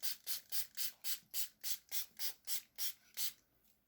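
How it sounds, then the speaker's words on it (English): Spray bottle misting water onto grape seeds, twelve quick, evenly spaced hissing spritzes heard up close and quiet, each a short airy burst, ending with a fainter trailing spray. "Spray some water to keep them moist."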